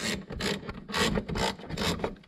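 Screws are backed out of the spoiler on a C7 Corvette, giving close, rhythmic scraping and rasping turns, about seven short strokes in quick succession with no talking.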